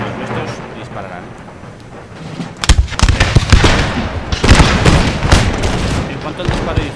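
Bursts of rapid crackling musket gunfire from the video game Empire: Total War ring out in overlapping volleys, loud and sharp, with a voice talking over them.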